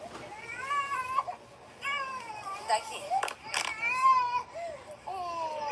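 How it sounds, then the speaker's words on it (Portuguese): A child cries in repeated sobbing wails, rising and breaking off in uneven bursts, with occasional voices and background noise around it. "No meio da sessão, dava pra ouvir o choro da criança."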